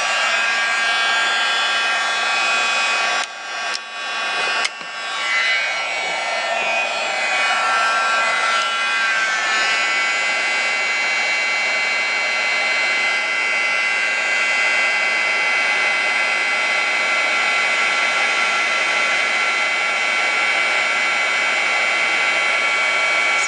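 A heat tool blows hot air over a mixed media canvas, a loud, steady whirring roar that runs continuously, dipping briefly near the start, then holds evenly with no voices.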